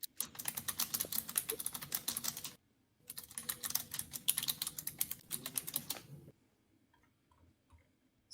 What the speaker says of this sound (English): It's quite a loud keyboard,